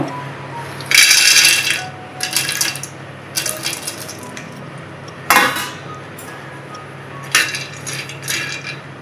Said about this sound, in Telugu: జీడిపప్పు వేపుతున్నాను జీడిపప్పు పావు కిలో